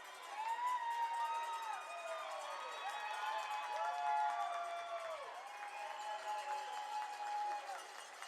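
Hockey crowd at a U18 gold medal championship game roaring after a triple-overtime winning goal, a sustained wash of cheering and shouting, loud and continuous with voices layered throughout.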